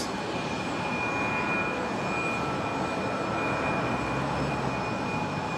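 A KC-135 military aircraft, flying as Rescue 533, touches down on the runway at Brisbane International Airport, its steady loud engine roar and rumble continuing throughout with a high whine on top.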